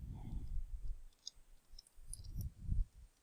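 Soft, quick keystrokes tap on a computer keyboard while entering text into a spreadsheet, faint and close in clusters over a quiet low room hum.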